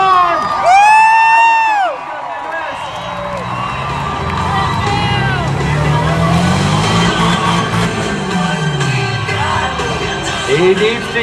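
Spectators at a monster truck show cheering and whooping, loud shouts and sliding hollers over a rumbling engine that rises and falls as the truck moves, with an announcer's voice mixed into the noise.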